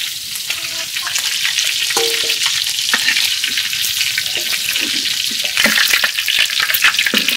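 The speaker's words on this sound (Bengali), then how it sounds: "মাংস ভাজা তেল দিয়েই আমি মাংস কষাই নিই" Chicken pieces stir-fried in hot oil in a home kitchen pan, a steady bright sizzle running the whole time with scattered clinks and scrapes from stirring, close and fairly loud, no voices.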